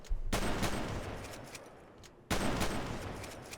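A sawn-off shotgun fires in the game SA-MP, two loud, close blasts about two seconds apart, each followed by a rattling decay and faint mechanical clicks.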